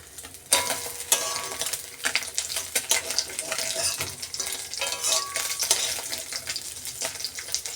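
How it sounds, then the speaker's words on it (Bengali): A freshly flipped river fish (morola) fries in hot oil in a pan, hissing loudly and unevenly, with sputtering pops and occasional utensil scrapes throughout. "তো মাছটা আমি এবারে উল্টে দিচ্ছি"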